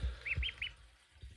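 A few ducklings give three quick high peeps in a row, close and fairly faint, with soft low bumps and shuffling around them.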